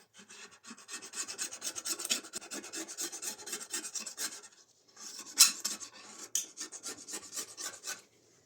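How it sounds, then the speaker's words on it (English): Small blade scraping grime off the blades of a STIHL HS 45 hedge trimmer, a close, gritty rasping in repeated strokes, a short pause midway, then more scraping before it stops. "get some little kind of blade and scrape all this crap off"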